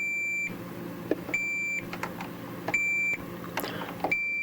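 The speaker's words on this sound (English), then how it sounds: "that's a good, strong continuity signal all the way through" Multimeter continuity tester beeping while checking metal shielding strips for a Farfisa organ's reverb, three sustained tones each lasting about a second with short gaps, close and clear over faint handling clicks.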